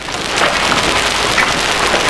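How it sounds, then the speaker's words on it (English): Hail falls hard during a spell of severe storms and tornadoes, making a loud, dense, continuous pelting roar close by with no letup. "Today, the hail fell hard."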